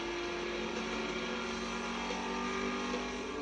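Super Late Model stock cars racing at Jennerstown make a steady, droning engine roar, heard at a distance without clear pass-bys or changes in pitch.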